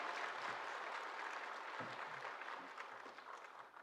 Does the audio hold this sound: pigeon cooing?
no